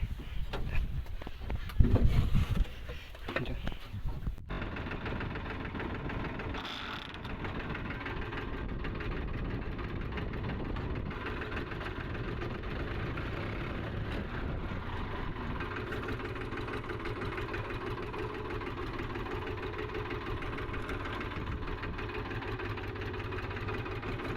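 A tractor engine idles with a steady, low, rumbling drone that holds evenly for a long stretch after a few seconds of rougher, louder noise at the start.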